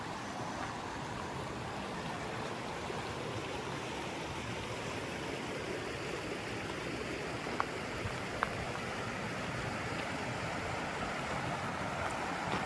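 A river flows continuously beside a hiking trail near Battleship Rock in the Jemez, an even, close rushing wash with a couple of faint clicks and no voices.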